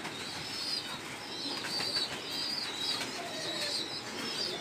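Pigeons flutter their wings and coo in a loft where they are kept and fed grit, a steady layer of soft calls and flapping running throughout at moderate distance.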